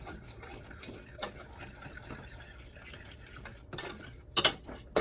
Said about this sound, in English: I'm just gonna stir it to make sure it ain't sticking.